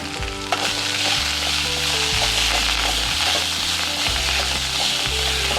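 Coriander and mint leaves fry in a pan for a village-style chicken sambar, giving a loud, close, continuous sizzle with steady stirring and scraping of a utensil against the pan, no voices.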